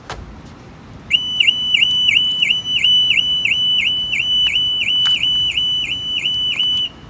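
A 2018 Audi A3 car alarm, set off by kicking the front tire, suddenly starts wailing, a loud rapid warbling siren pulsing steadily and close by until it cuts off.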